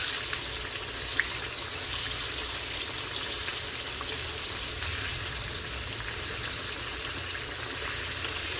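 Sliced green tomatoes frying in a pan give off a steady, close sizzle that holds evenly without a break.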